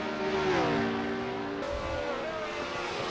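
A 1967 Formula One race car engine in a sim racing game, a sustained harmonic drone that shifts pitch as it climbs and drops through gears, steady and fairly close, no talk.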